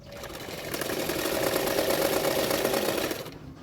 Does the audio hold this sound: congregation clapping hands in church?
no